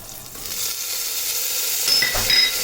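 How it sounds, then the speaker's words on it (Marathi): Diced potatoes fry in hot oil for a quick fasting-day varai rice dish, giving a steady, close sizzle with occasional stirring scrapes and brief sharper spits toward the end. "बटाटे चांगले भाजून घ्यायचे तेलात."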